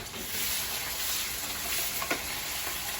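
Native chicken pieces frying in a pan with garlic and onion for adobo, a steady close sizzle throughout with a brief clink or stir near the end.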